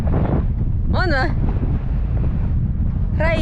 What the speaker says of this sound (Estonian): Räige tuul on küll siin.